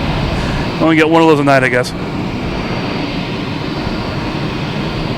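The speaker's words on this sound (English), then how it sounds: "Also have another FedEx coming in, the 767." A FedEx Boeing 767 cargo jet arrives at Boston Logan Airport, heard as a broad, steady engine roar that fills the whole clip, with someone talking briefly over it near the start.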